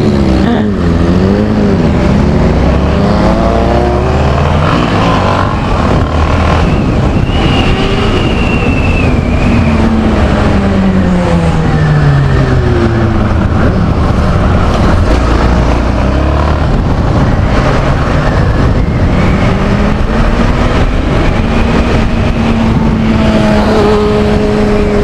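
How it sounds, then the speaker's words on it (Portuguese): A Yamaha XT660 motorcycle engine revs loudly and continuously up close, its pitch rising and falling through repeated throttle blips with a steady rumbling idle underneath. "Acelerando a moto, ó."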